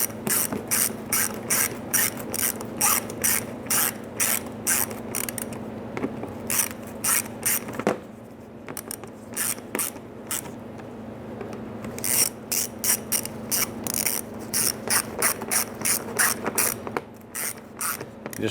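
A ratchet wrench snugs down bolts on a power steering oil cooler of a 2005-2010 Chrysler 300, giving repeated bursts of quick close clicking strokes with short pauses between, loud and clear with no talking.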